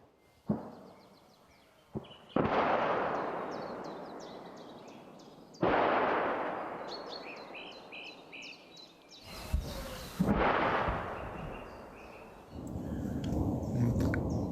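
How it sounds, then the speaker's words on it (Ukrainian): Heavy booming artillery fire and explosions roll out one after another near Chasiv Yar, Ukraine, each decaying slowly, with birds chirping faintly in the background between the blasts. "Канонада самої ночі не припиняється."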